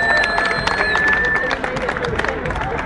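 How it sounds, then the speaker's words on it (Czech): A crowd applauds for Dan with dense, steady clapping and some cheering and babble, while a loud tonal whistle sounds early on. "Zatleskejte Danovi"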